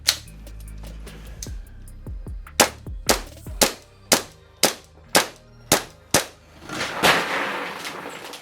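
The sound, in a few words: G&G SMC-9 gas blowback airsoft SMG firing a magazine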